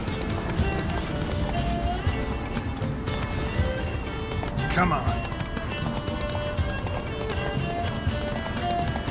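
Geralt's horse Roach gallops in The Witcher 3 video game, a steady rapid drumming of hooves running continuously throughout, close and loud, with someone talking over the hoofbeats.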